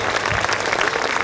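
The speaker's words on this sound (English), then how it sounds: "Can you please give these ladies a round of applause?" Audience applause at a marquee event, a dense, steady wash of clapping from a crowd, fairly loud and continuous with no talk.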